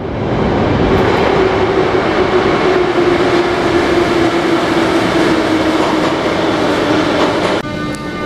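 A Moscow Metro subway train pulls into a station with a loud, steady rumbling roar and a sustained low wheel hum that holds for several seconds before easing off at the end.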